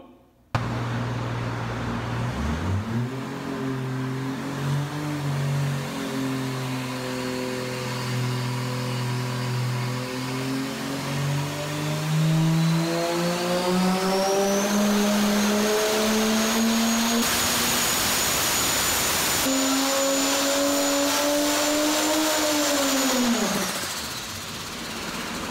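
A junkyard Jeep 4200 Atlas inline-six runs naturally aspirated before a turbo is added, starting with a steady idle, then revving up through a long climbing whine, dropping briefly and surging again before falling back, loud and close with no talk.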